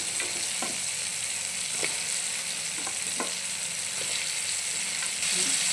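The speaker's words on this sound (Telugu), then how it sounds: "మునక్కాయ వేసాం కదా ఒకసారి తిప్పుదాము" Moringa drumsticks stirred in a pan of tomato curry: a steady, fairly loud sizzle punctuated by several sharp spoon scrapes spaced a second or so apart.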